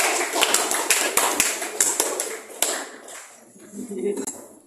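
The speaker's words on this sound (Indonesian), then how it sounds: "Kasih aplaus untuk" Applause from a classroom group discussion session, dense broadband clapping filling the first three seconds then thinning out into a few scattered claps with voices murmuring underneath toward the end.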